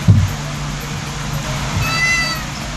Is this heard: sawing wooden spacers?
no